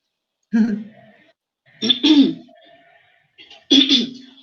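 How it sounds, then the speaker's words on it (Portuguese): Three short, harsh throat-clearing bursts close up, separated by brief pauses, with no talking. "Deixa eu tomar uma aguinha para o meu pigarro"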